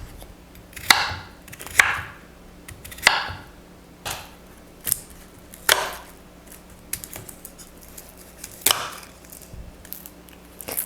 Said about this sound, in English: I'm just chopping them up now.